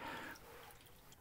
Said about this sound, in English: we'll let this drip as long as we can stand it